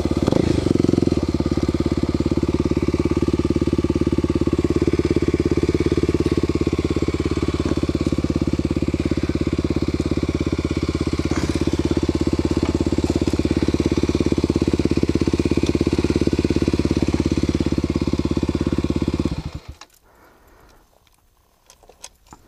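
A Kawasaki KLX250SF motorcycle engine idles steadily and loudly up close, a constant low rumble that cuts off abruptly near the end, leaving near silence.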